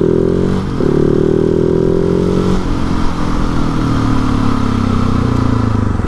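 A KTM 701 supermoto motorcycle pulling a wheelie, its single-cylinder engine revving hard and loud up close, dropping pitch at a gear change and then climbing again in a steady drone.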